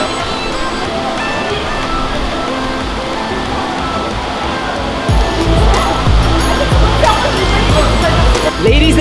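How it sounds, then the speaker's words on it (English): Water from the top of Nohkalikai Falls in Meghalaya rushes as a continuous broadband roar, swelling louder about halfway through, with no clear talk above it. "we now present to you the mouth of the Nohkalikai waterfall here"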